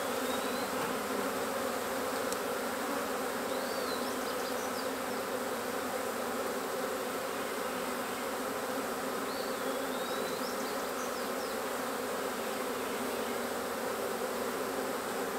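A continuous, even drone of many honey bees buzzing close by in an open hive of a small rescued colony split, with occasional louder individual bees passing near.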